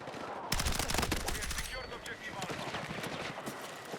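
Rapid SMG fire in Battlefield 6, a sharp burst of automatic shots starting abruptly, followed by further clustered gunfire and game effects while a voice talks over it.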